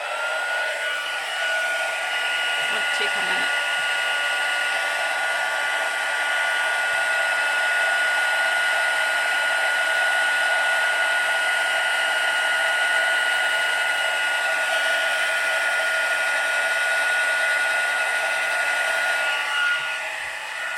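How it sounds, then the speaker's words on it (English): A heat embossing tool blows hot air over a card in a steady, loud, close whoosh that runs the whole time, with a brief spoken remark partway through. "My heat tool in, again put your sound down if you want to."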